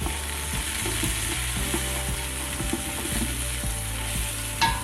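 Two and a half teaspoons of garlic fry in a hot pan while being stirred, a continuous loud sizzle with rhythmic scraping of a spoon across the bottom, a light clink near the end, no talking.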